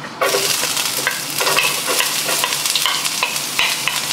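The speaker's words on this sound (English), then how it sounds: "So let's start sauteing the onions first." Sliced onions sauteing in canola oil over high heat give a loud, continuous sizzle and crackle, with repeated stirring scrapes in the pan and no voice.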